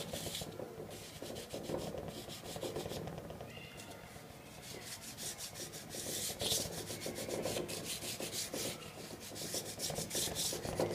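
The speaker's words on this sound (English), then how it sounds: "I'm using both the tip of my charcoal and the side of it." Charcoal rubs and scratches across paper while a portrait is drawn, a close, continuous rasping with quick back-and-forth strokes that grow brisker toward the end.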